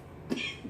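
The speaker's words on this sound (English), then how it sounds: "made me cough." A single short cough caused by baking spray, close by, with a brief faint follow-up sound afterward.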